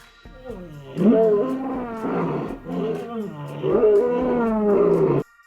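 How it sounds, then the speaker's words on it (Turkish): A lion roars three times in strong, rumbling bursts, loud and close with brief pauses between, then cuts off abruptly, heard as an animal-sound puzzle for children. "Tebrikler bu bir aslan sesiydi."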